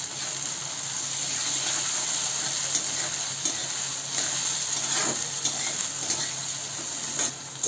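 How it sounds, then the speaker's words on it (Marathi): Chopped tomato with onion and green chillies sautéing in a pan for besan bhurji, a steady close sizzle with occasional stirring scrapes, no voices. "इथं आपला टमॅटो परतून झालाय."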